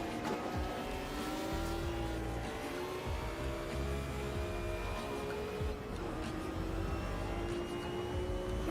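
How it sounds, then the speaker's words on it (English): A Corvette race car in a racing video game, its engine whining steadily and drawing closer, with a sustained high-revving tone and faint tire noise, no talk over it. "We got a Corvette sneaking up on us."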